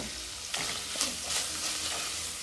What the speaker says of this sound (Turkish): Hemen baharatlar ve tuz ile biraz daha etimi kavuracağım.